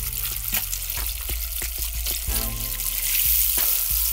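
Grunt and snapper fish nuggets deep-fry in hot oil, giving a loud, continuous sizzle broken by sharp pops and crackles as pieces drop in and bubble, close up with no one speaking.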